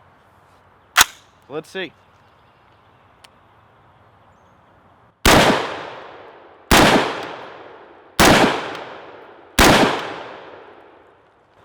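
A .223 rifle fitted with a .30 cal silencer fires four loud, sharp shots at an even pace, each with a short decaying tail. A brief spoken remark and a few small clicks come first.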